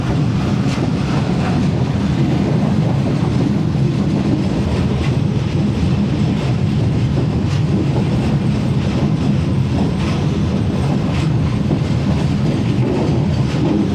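Pak Business Express passenger train slowing near Jumma Goth, its loud steady rumble and rhythmic wheel clatter filling the cabin without a break.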